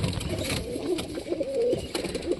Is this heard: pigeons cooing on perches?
yes